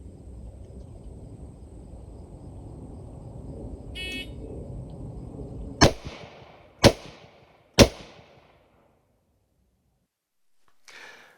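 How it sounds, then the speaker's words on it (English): Three sharp, loud gunshots from an FN FAL SA58 rifle during rapid snap shooting, spaced about a second apart after a stretch of rumbling background noise, followed by quiet. "as quickly as I can get a good sight picture, I'm squeezing off shots"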